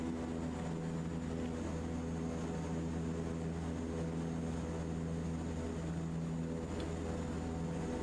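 A propeller aircraft engine in Microsoft Flight Simulator 2024, flying a firefighting mission: a continuous, even droning hum with a steady pitched tone, heard alone at moderate level throughout.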